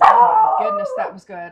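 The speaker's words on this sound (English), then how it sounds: "No, that was my dog barking." A pet dog gives a drawn-out, howling bark-like vocalization close by, overlapping a person speaking, in a home kitchen during cooking of a molasses cake.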